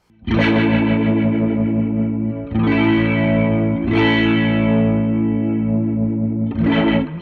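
Sustained electric guitar chords swirl with a fast, warbling modulation effect, strummed three or four times and ringing loudly between strums.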